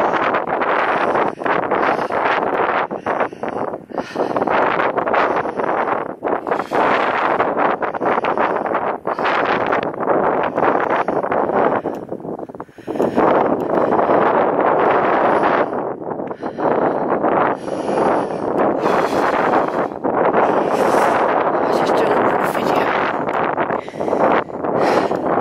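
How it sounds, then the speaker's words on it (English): Strong, gusty wind roars across an open hillside on Dunkery Beacon, buffeting the microphone with loud, continuous rushing and rumbling that rises and falls in gusts throughout, with no voices heard. "the weather's changed now. It's very blowy."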